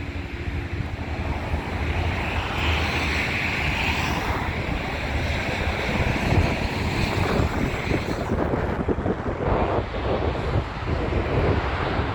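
Sea waves wash steadily in the dark, a broad, continuous roar of surf mixed with wind buffeting the microphone, with no voices heard.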